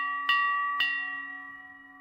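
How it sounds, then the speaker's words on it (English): A shop counter bell in a video game is struck twice about half a second apart. Each ding rings with a pure tone that fades slowly. "Let's ring the bell."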